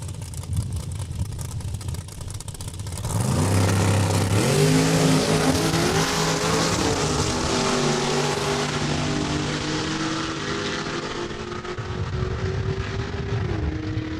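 A Cadillac drag car launches at Saskatchewan International Raceway, its engine roaring loud and close as it revs up through several rising gear pulls, then fading slightly as it speeds away down the strip.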